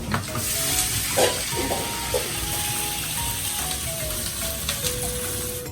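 Ginger chicken stir-fries at a Thai street food stall abroad: a steady, close sizzle of frying in a hot wok with scraping spatula strokes and metallic clinks throughout, no voices.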